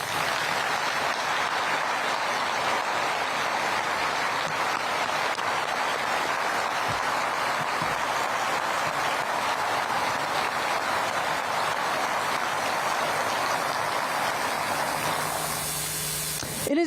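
Sustained applause from a large crowd at a Veterans Day ceremony at Arlington National Cemetery, honoring veterans' national leadership, a steady dense wash of clapping that holds for about sixteen seconds before cutting off.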